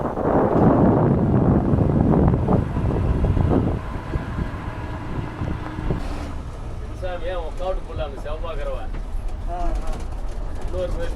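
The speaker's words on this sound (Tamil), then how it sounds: "அப்படியே ஜில்லுன்னு காற்றடிக்க ஆரம்பிச்சிட்டு" Gusty wind buffets the microphone with a low roar at first, then eases; birds chirp and coo repeatedly in the background.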